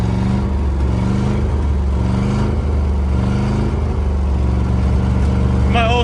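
An abandoned armoured Land Rover engine runs rough and struggles to idle, a loud steady rumble with uneven pulsing throughout, close by and with no pause.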